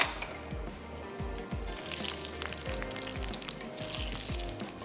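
Bread frying in oil over lowered heat for bread bhel puri, a steady soft sizzle with occasional faint clinks of a pan, close and quiet with no talk.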